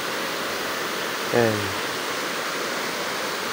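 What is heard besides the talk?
water flowing in a river that used to be a road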